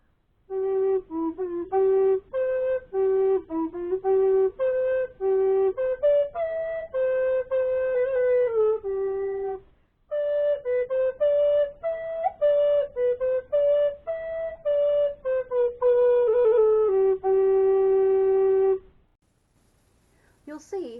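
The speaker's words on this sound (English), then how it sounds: "If you want to go lower, meet the tenor recorder." A tenor recorder plays a melodic line of clear, sustained low notes in two phrases separated by a short pause, close and solo with no other instruments.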